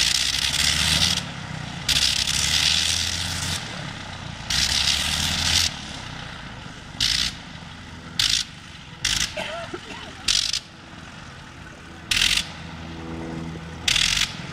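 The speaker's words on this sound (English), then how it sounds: "we might get a nice little flight down the runway with the Caudron G3 today" A 1913 French Caudron G3 biplane with a rotary engine runs on a runway for a test flight. The engine roars in loud, choppy bursts that cut in and out repeatedly, with wind noise between.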